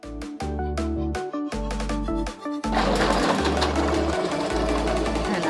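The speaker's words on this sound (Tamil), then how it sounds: "இந்த மிஷின் எடுக்கிறோம் பார்த்தீங்கன்னா ஒரே மிஷின் எல்லா காய்கறியுமே கட் பண்ணிக்கலாம்" Household vegetable cutting machine from a food machinery and appliance display, running with a loud steady electric motor hum that stutters and pauses a few times, then settles into a rougher, busier whirring drone.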